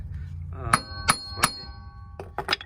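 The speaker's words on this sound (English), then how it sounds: "we're gonna have to whack it with the hammer a few times" Sharp metallic hammer blows on a seized wheel hub assembly of a 2014 Subaru Forester ring out, three evenly spaced strikes followed by a couple more quicker hits, close and loud with a lingering clang.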